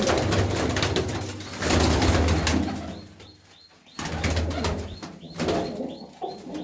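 Pigeons coo in a loft in low, soft, repeated throaty calls close by, rising and falling in waves over a light background rustle.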